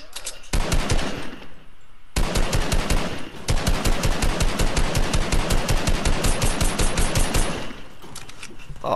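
Sustained machine gun fire in the video game Fortnite, loud rapid bursts of evenly spaced shots lasting several seconds each, separated by brief gaps, with no talking over them.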